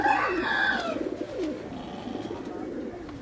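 A black and blue Teddy pigeon coos close by, a few throaty rolling calls over faint background noise.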